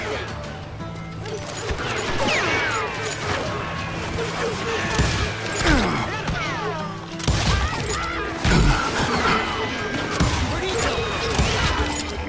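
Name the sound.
gunfire in video game Call of Juarez Gunslinger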